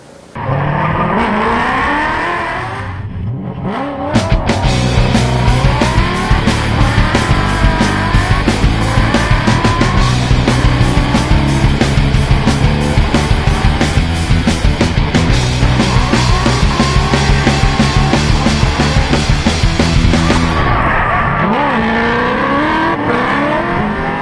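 A 1992 Nissan Skyline, its stock straight-six swapped for a Nissan Titan V8, drifts loudly with a roaring engine and sustained tire squeal that cuts out briefly, then returns for a long screeching slide.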